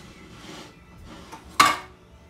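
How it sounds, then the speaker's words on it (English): Flour and rolled oats are stirred in a bowl for strawberry muffins: soft scraping strokes followed by one sharp clink of a utensil against the bowl, close and fairly quiet. "Just mix in all the ingredients."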